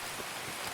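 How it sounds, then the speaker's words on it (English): Steady rain in the video game Escape from Tarkov, a dense, even hiss of falling drops with no breaks, fairly quiet and constant throughout. "A lot of rain today."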